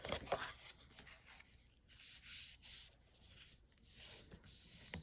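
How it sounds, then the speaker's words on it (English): Card stock is folded and burnished along score lines, a faint close rubbing and scraping repeated back and forth in soft strokes, with no talk. "Now let's fold and burnish and get our card ready to go here."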